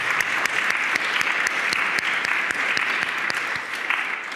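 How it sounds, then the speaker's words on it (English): Audience in a refectory hall gives panelists a warm round of applause, dense steady clapping with sharp individual claps standing out. "please join me in thanking our panelists with a warm round of applause"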